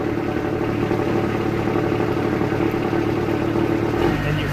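A 2019 Morooka MST200VDR crawler dumper runs steadily as its dump bed raises, a close, constant mid-pitched diesel drone with a faint clatter, shifting lower in tone near the end.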